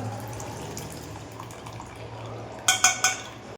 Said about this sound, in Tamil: நம்ம புளி கரைச்ச தண்ணியையும் ஊற்றிக்கலாம்